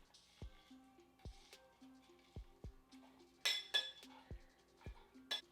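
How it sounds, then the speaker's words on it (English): Glass clinks and knocks from muddling sugar and lime juice in a cocktail glass, a series of sharp, close taps repeating irregularly, with a brief louder rattle midway. "now we're going to muddle"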